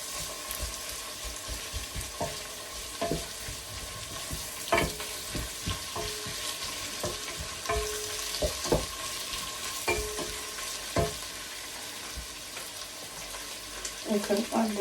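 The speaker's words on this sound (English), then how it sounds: "Now I'll come and add my white onions inside here also. Give it a good stir also." White onions sizzle steadily in a hot pan while a spoon stirs them, with scraping and clinking knocks against the pan scattered through a continuous close fry, plus a brief voice near the end.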